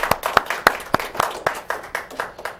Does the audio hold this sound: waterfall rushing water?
no